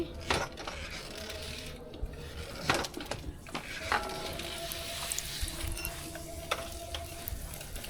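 Oil sizzles in a pan while chicken paratha fries, a constant close hiss broken by a few clinks and scrapes of a utensil, moderately loud and with no talking.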